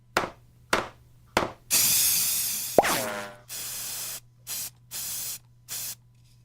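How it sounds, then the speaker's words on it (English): A paint sprayer hisses white paint onto a tree in an old radio comedy effect: several short bursts, a longer spray ending in a wobbling twang, then more regular spurts, loud and close. "I'll have this tree sprayed before you can say Watch Bob's your aim"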